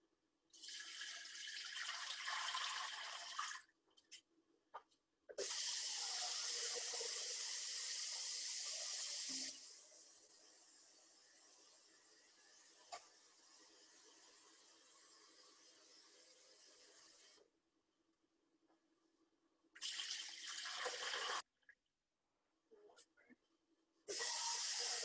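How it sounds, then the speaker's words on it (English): Water from a tap pours into a giant stock pot over vegetable scraps in bursts, a loud rushing fill that stops and restarts several times, with quieter stretches between. "I'm just gonna toss it in a giant stock pot"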